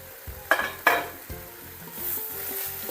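Leaves for Kerala pathila thoran are stir-fried in a pan, with a soft steady sizzle and a few sharp scraping and clinking strokes of the spoon, close and without talking.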